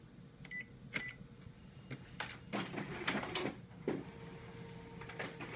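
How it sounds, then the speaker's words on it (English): A Ricoh MP C2550 copier pulls sheets through its document feeder with a series of quiet mechanical whirs, clicks and brief beeps, the feeding noises coming in uneven bursts over several seconds. "We're going to run them through the document feeder, verify that works well"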